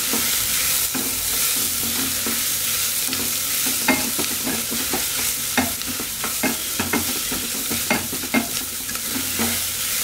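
Onions are fried for pav bhaji while a spoon stirs them around the pan, a loud steady sizzle punctuated by frequent scraping strokes in an uneven rhythm, close and unaccompanied by speech.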